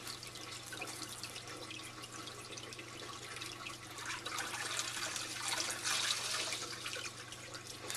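Gravel poured into a ten-gallon aquarium full of water makes a continuous close rushing, gurgling splash with rattling pebbles, swelling louder toward the end.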